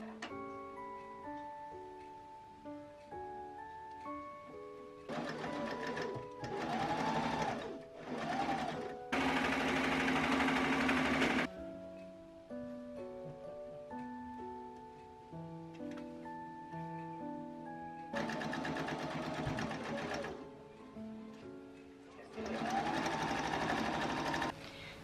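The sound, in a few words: sewing machine stitching pockets onto dress side seams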